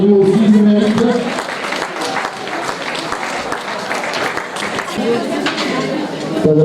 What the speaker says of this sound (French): applaudissements pour eux aussi, ils méritent